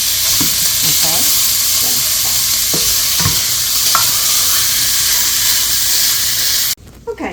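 Ground hamburger meat browning in a pan while being broken up, a continuous loud sizzle with scattered scraping and stirring clicks from the utensil, ending abruptly.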